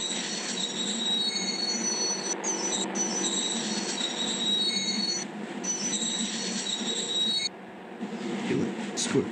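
A train in the video game Indian Bikes Driving 3D rumbles along steadily with high-pitched wheel squeal and rolling clatter, loud and continuous, with a brief dip near the end.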